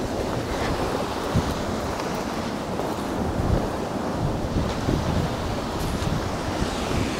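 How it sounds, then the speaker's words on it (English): A constant, heavy roar of rushing water from a waterfall in Mount Hope, West Virginia, fills the clip, broad and unbroken, with no voices. "The view of the beautiful waterfall."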